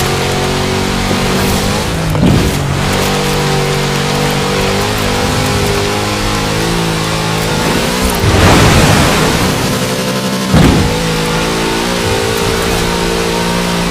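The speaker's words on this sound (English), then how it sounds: "Such power in the big Chevrolet engine." A big Chevrolet engine revs hard and loud in the Forza Horizon 4 video game, holding a sustained roar with a few sharp surges and bursts of acceleration.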